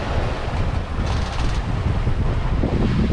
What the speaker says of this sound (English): They're not very large waves, but they're very steep.